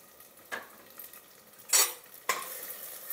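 A spoon stirs kichidi in a cooking pot, a few sparse scraping strokes with a sharp clink or two, faint and close over a quiet background with no talking.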